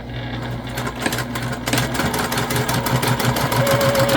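Sewing machine stitching quilting lines on a pencil pouch, a close, steady mechanical whir with a fast rhythmic needle pulse that rises slightly in speed toward the end.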